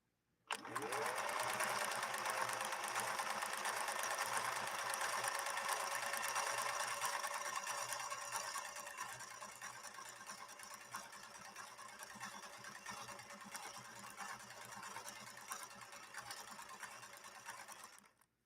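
A Viking 21E sewing machine runs a combing stitch in one continuous, close motor hum with a fast mechanical clatter, loud at first and settling slightly quieter about halfway before stopping abruptly.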